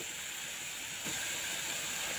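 Onion hitting hot oil in a pan where koi fish has already been fried, giving a steady close hiss that swells slightly partway through and carries on without talk.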